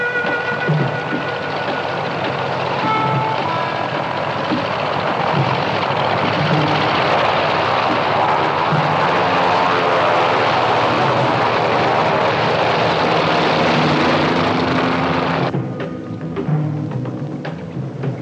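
A steady, loud aircraft engine drones on continuously during flight, its roar close and unbroken, then thinning slightly near the end.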